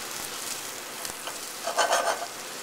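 Onions sweating in butter in a pan, seasoned with salt and white pepper, give a soft steady sizzle with light stirring scrapes, swelling briefly louder near the end; no one speaks.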